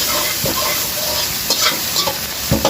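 Carrots and beans being stirred in a frying pan, with steady sizzling under irregular scraping strokes of a spoon, close and fairly loud, no voices.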